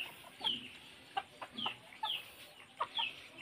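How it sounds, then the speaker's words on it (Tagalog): Four chickens, sibling hens, clucking in a coop, scattered short clucks and calls repeating irregularly at close range over quiet background. "Isang kulungan. May 4 na manok."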